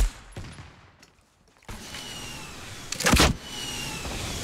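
SCAR assault rifle fire in Fortnite, a distant rattle of shots followed by a loud close burst near the end, with game ambience throughout.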